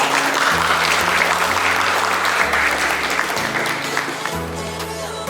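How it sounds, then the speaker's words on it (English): Sustained applause from a workshop audience on integrating terrestrial, maritime, built and cadastral domains, dense and steady throughout, with low sustained music tones underneath. "Please give a big round of applause."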